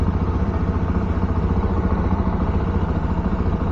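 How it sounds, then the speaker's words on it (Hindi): A Jawa 42 Bobber BS6 motorcycle runs with a steady, deep, rapid exhaust thrum, loud and close. The rhythm holds constant throughout and no one speaks. "मस्त आवाज़ है यार एग्जॉस्ट का"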